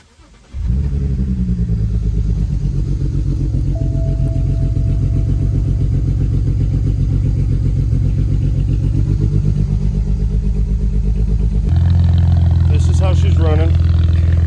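A BMW 535xi with the N54 twin-turbo six idles steadily and close by, an uneven lumpy beat hinting at random cylinder misfires, after a brief start; a louder rev bump near the end.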